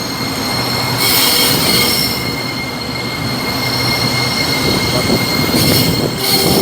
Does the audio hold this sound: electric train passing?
yes